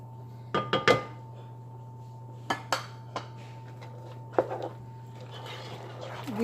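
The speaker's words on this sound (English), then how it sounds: "Give it a quick stir." A spoon clinks and knocks against a pot while Nigerian ogbono soup with blended pepper and crayfish is stirred, a few sharp metallic taps in quick clusters over a low steady hum.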